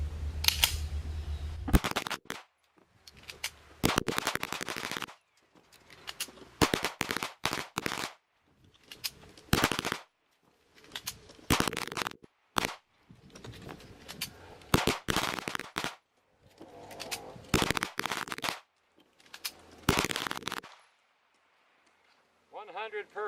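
A Tisas BR9 pistol fires in sharp bursts during an endurance test, rapid loud shots in clustered strings separated by pauses and handling noise, with people talking between volleys.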